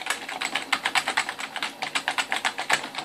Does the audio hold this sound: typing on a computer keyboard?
yes